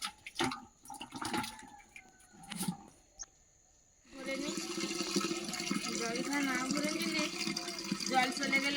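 Water running steadily into a container in a village home, a continuous splashing rush that starts partway through after a few knocks and clatters, close and fairly loud, with a voice heard early on.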